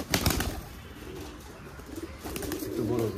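Pigeons at a pigeon farm coo softly, with a burst of wing flapping near the start, all fairly close and moderately quiet against a low background hum.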